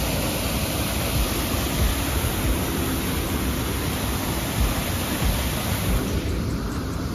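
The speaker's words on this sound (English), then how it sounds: "You like this waterfall better?" A waterfall roars loud and steady throughout, a dense unbroken rush of falling water close by with no voices over it.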